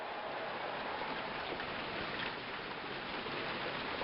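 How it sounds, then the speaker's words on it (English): Rain falls steadily at the ballpark in the APBA PC Baseball video game, a soft, even hiss that stays constant and fairly faint throughout. "It's been raining here for a while."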